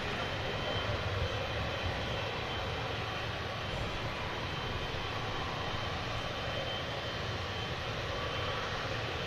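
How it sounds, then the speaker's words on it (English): An Emirates Boeing 777 bound for Dubai produces a faint, steady distant jet rumble at the airport, constant without clear rise or fall. "Emirates 777 heading back to"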